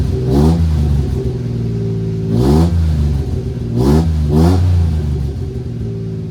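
Mini truck with a custom exhaust revving in deep-toned bursts: three or four close, loud rises and falls of engine pitch separated by a steady idle, with no voices.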